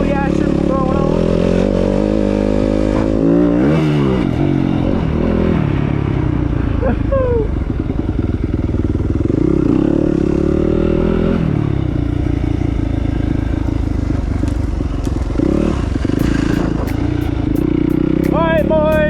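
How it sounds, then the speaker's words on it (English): Dirt bike fitted with new plastics ridden along a trail, its engine loud and close throughout, revving up and down in repeated surges, with clattering and scraping from the ride and a wheelie. "riding the dirt bike with the new plastics on it"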